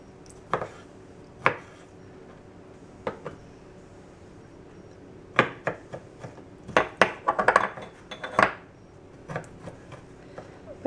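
A knife chops stacker dill pickles on a cutting board in sharp, irregular knocks, a few spaced strokes early and then a quicker cluster of cuts near the end.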